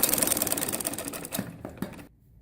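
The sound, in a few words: sewing machine stitching a salwar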